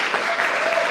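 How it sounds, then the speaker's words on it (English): Dense, steady applause fills a community meeting room at a public input session on pedestrianizing Moody Street, a brief burst of many hands clapping together at close range. "Can we give him a round of applause?"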